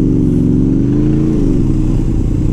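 A motorcycle engine runs loud and close in city traffic by tram rails, its steady drone rising into a revving surge midway, with no talk over it.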